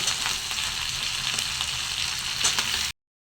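Chopped onions and potatoes fry in a pan with shrimp, giving a dense, steady sizzle with a few brighter crackles before the sound cuts off abruptly.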